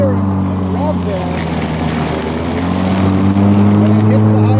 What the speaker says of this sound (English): So you can hear it go a little bit higher and rev there.